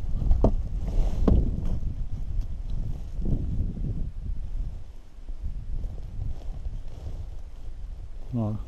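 Small inflatable pontoon drifting on a little river during float fishing, with soft water lapping against the hull, a couple of sharp hollow knocks early on, and light wind buffeting the microphone.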